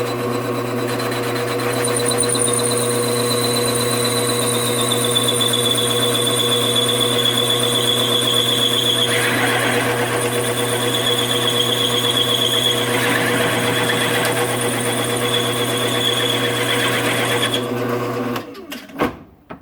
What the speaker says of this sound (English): The fly cutter works good, but if you can see that it builds up with aluminum here